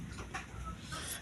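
Hungry young chicks clucking and peeping for food, a short burst of soft calls at close range, fairly faint and with no talk over them.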